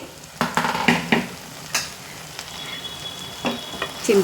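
Okra cooked with tamarind sizzles and fries in a pan on the stove, a soft continuous crackle broken by scattered stirring clatters and louder pops, close and alone.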